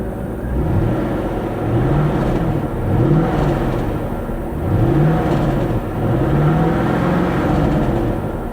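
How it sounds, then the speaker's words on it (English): A car engine that has sat in a field for months idles with a steady low drone and a recurring rattle from the catalytic converter, heard close with no talk. "I hear a catalytic converter rattling too."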